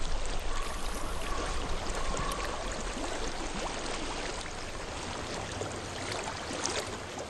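Flowing stream water in the video game Hellblade: Senua's Sacrifice, a steady broadband rushing and trickling that continues evenly throughout at moderate level, with no voices.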